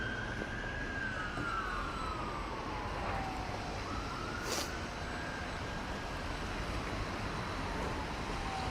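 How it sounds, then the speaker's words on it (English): An ambulance siren passes along a street in North York, Toronto, its faint wailing tone sliding up and down over steady, loud traffic noise. A brief burst of noise cuts through midway. "That ambulance is flying."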